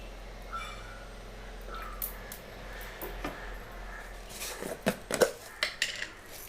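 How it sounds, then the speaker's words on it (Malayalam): A cooking pot set on a stove for a coconut-oil tempering gives metallic clinks and scraping clatter. The knocks grow louder and denser near the end over a faint background hum. "നമ്മൾ അടുപ്പത്ത് ചട്ടി വെച്ചു."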